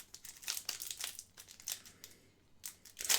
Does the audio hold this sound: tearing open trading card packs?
yes